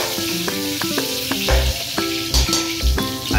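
Ginger sizzling in hot oil as it is stir-fried in a pan, a steady crackling hiss with intermittent spoon knocks and stirring, with music playing over it.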